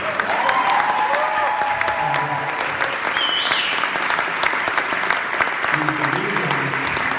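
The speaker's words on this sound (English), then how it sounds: "I think we can applaud that." Audience at a film conversation event with two directors breaks into sustained applause, dense steady clapping filling the room throughout, with some voices and cheers mixed in.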